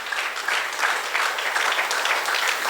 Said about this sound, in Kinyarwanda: reka dukomere amashyi Yesu.